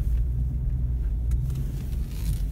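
A 2000 Cadillac Eldorado Convertible's engine idles steadily, a close, continuous low rumble holding even throughout with no voices over it.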